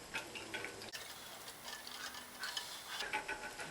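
A mixture being whisked in a round saucepan, quick light metallic ticks and scrapes of the whisk against the pan, close but quiet, with no talk.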